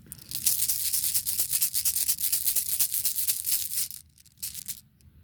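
Rune stones are shuffled and drawn by hand for a Capricorn reading, a close, steady rubbing and clattering of stones that runs for about four seconds and then thins to a few scattered clicks.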